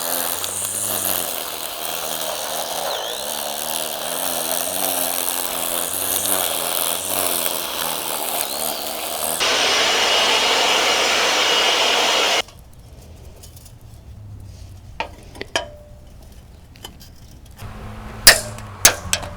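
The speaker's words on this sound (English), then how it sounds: "So first I'm going to use the weed eater to knock down the area." A gas weed eater knocks grass down low and level on a lawn being readied for brown aluminum landscape edging, a steady loud buzzing engine whine that runs for several seconds, then drops out to quiet with scattered clicks and knocks.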